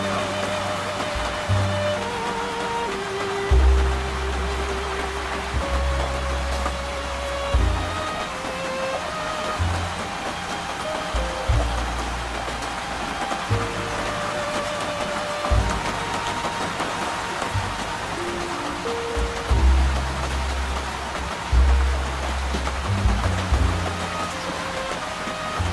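Steady rain falling outside a moving train at night, a continuous dense hiss layered over a low rumbling hum that swells and shifts in pitch.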